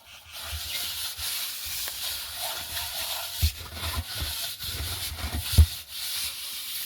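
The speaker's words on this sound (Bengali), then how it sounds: "মা এখন হাঁড়িগুলো মাজতে শুরু করেছে, ধান সেদ্ধ করার সেই হাঁড়ি।" Large pots used for boiling paddy being scrubbed by hand, a steady coarse rubbing and scraping that continues throughout, with a few sharper knocks of the pot standing out.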